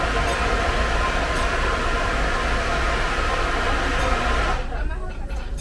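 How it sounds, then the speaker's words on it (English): A train at Disneyland rumbles past, a loud broad continuous roar with rattling wheels that thins out near the end. "There was the train."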